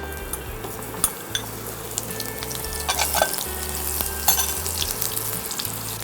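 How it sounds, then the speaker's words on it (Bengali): Vegetables for a Bengali shukto, including pointed gourd, fry and get stirred in hot oil, giving a steady close sizzle with occasional utensil scrapes and clinks over about six seconds, with no talking. "সবগুলো একসঙ্গে দিয়ে একটু নেড়ে নেবো তেলে"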